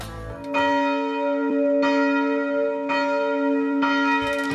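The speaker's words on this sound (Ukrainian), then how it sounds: "Бронзовий дзвін вагою майже пів тони, звуком ля сповіщає в про радісні та сумні події." A bronze church bell weighing nearly half a tonne, tuned to A, rings with a sustained, resonant tone, struck about four times at a steady pace, each strike ringing on into the next.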